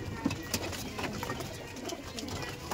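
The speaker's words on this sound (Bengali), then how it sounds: "পায়রা দেখুন কত অ্যাক্টিভ দেখুন পায়রাগুলো" Pigeons in a loft with breeding and mating rooms, soft low coos and faint wing flutters scattered over a steady hiss of background noise, quiet and close.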